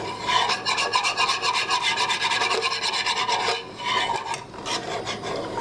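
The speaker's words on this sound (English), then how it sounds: "as I'm whisking this" Heavy whipping cream for an Alfredo sauce is whisked in a rapid, steady rhythm of scraping, rubbing strokes, close and moderately loud, with a brief pause near the end and no talking.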